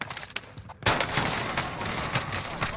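Rapid bursts of gunfire in a video game crackle loudly and continuously, dense repeated shots after a brief quieter start.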